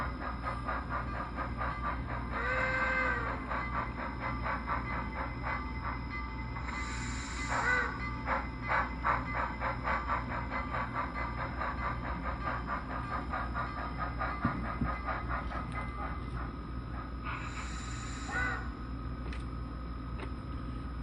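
HOn3 brass K-36 steam locomotive model with a Tsunami sound decoder and high-bass speaker gives a low, steady chuffing rumble at moderate volume, with a few whistle-like blasts at intervals.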